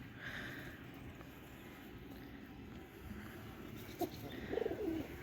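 Desi pigeons coo softly at a home pigeon loft, low and fairly distant, with a couple of clearer throaty coos near the end over a quiet background hum.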